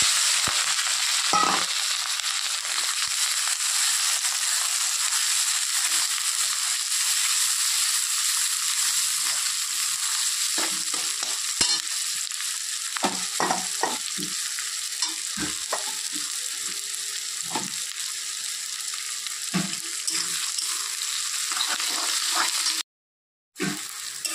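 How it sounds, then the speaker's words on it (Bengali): Green chillies and onion fry in hot mustard oil, giving a steady, close hiss of sizzling for about twenty seconds, with scattered clinks and scrapes from a spatula stirring the pan and a brief drop to silence near the end. "এখন তেলের মধ্যে দিয়ে দেবো এই যে কেটে রাখা কাঁচা লঙ্কা আর পেঁয়াজ"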